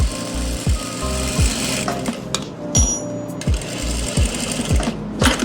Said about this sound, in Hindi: ये देखो अब आप लास्ट तक सिलाई लगा दोगे ऐसे।